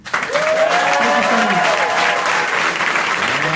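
A live studio crowd claps loudly in a dense, sustained burst of applause that sets in abruptly and stays steady to the end, with a few faint tonal traces under the clapping.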